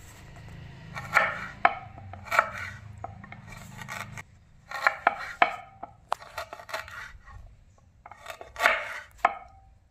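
Beetroot being cut lengthwise with a knife on a board, giving a series of close, crisp chops in uneven bursts with scraping slices in between, set against a faint hum that drops away partway through.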